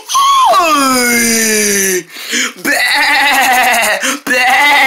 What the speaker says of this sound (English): There's a sheep biting me all over!